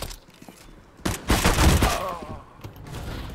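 Gunfire in the video game Counter-Strike: Global Offensive, a loud burst of rapid shots in the middle after quieter clicks and faint background noise, with a voice briefly audible.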